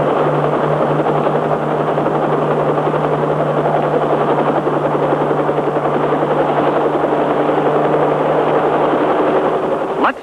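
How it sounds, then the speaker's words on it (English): A Kaman pilotless radio-controlled helicopter from 1953 flies under steady ground radio control, its rotor and engine drone holding loud and constant throughout with a fixed low hum and no break. "This tiny control stick can fly the pilotless copter in any direction."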